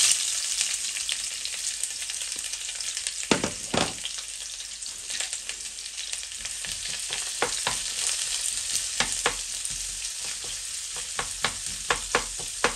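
Onion sizzles and fries in hot oil for Korean tteokbokki, with a steady crackling hiss and occasional stirring scrapes, close and continuous with no talk.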